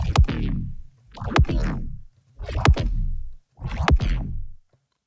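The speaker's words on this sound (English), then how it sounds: "it's just a dual notch sweep preset" Four evenly spaced heavy impacts, each with a sweeping filtered, phasey tail that rises and falls before cutting off.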